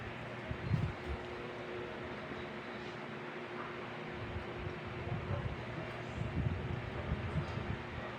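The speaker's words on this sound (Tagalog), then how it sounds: "Oh, malakas yung hangin." Strong wind roars steadily outdoors, buffeting and rumbling with occasional low gusts, a continuous broadband rush with no talking.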